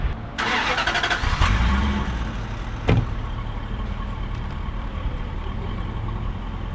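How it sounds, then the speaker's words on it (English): A V8 car engine with a stock exhaust idles close by, a low steady rumble with a couple of sharp transient knocks early on, and no voices. "it's a silent V8. The exhaust makes no sound at all"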